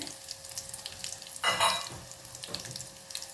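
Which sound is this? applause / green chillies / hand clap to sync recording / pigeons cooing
green chillies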